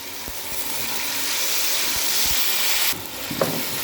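Steady, close sizzle and steam hiss as water hits garlic and ginger paste frying in hot oil, dropping slightly in tone near the end with a small clatter.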